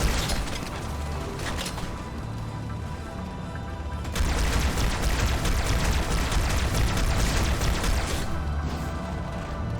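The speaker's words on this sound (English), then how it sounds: "Shoot it with guns." Sustained Halo video game gunfire with mechanical weapon noise and booming impacts, continuous dense shooting that swells louder midway and carries on without speech.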